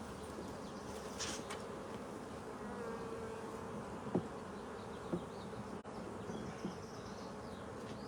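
Honey bees hum steadily around an open hive during a spring hive split, a dense continuous buzz with a few brief knocks and clicks from handling frames.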